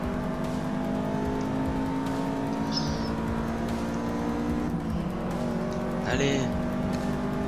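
Subaru race car engine revving in a Forza Motorsport 6 race, a steady sustained drone with a sharp rise and tire squeal near the end, under excited French talk.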